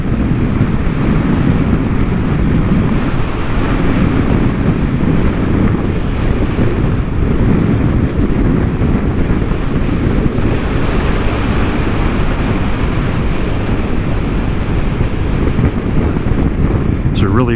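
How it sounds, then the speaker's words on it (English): Strong headwind buffeting the microphone while riding a Vespa scooter at about 55 to 60, a loud continuous roar with gusty rumble that hides other sounds. "Yeah, we have quite a headwind here."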